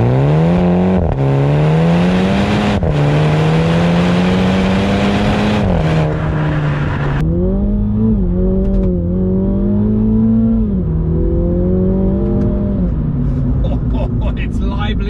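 A MINI GP3 accelerating hard on a track, heard from inside the cabin: a loud engine note climbing through the revs, then dropping at each gear change, with rising pitch again between shifts.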